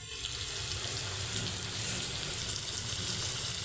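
Onions fry in oil in a pan while eggs are being cooked, giving a steady, fairly quiet hiss and sizzle that carries on throughout with no talking.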